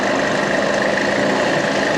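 A 2007 Chrysler PT Cruiser with the 2.4 engine idles roughly, giving off a dense, constant mechanical drone and vibration. It is close and loud, with a faint rattling texture and no pauses.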